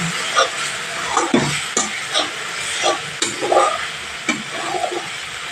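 Water is poured over sautéed spice paste in a pan for a bata fish curry, setting off a bright hissing sizzle with crackles and spatula scrapes, close and fairly loud, without speech.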